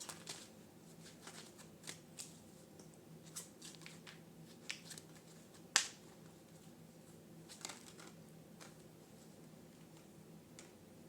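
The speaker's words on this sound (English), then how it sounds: "my hand kept going back to the deck, with the urge to start shuffling" Tarot cards riffled and shuffled in soft, repeated bursts, each flutter of card edges quiet and close, with one sharper snap near the middle and no talk.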